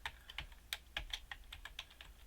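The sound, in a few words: typing a password on a computer keyboard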